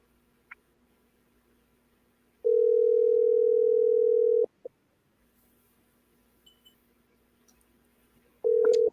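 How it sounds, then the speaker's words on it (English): A telephone dial tone sounds steadily for about two seconds while a call is placed, followed by a click and quiet, then the tone starts again at the end; no talking. "I want to call Philip Alexander"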